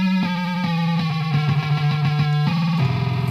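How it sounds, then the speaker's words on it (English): Drum machine beat fed through a distortion effect: a steady, buzzy pulse of thick hits with a droning distorted tone, loud and continuous for a few seconds with no voices. "if I take this sound and run it through distortion"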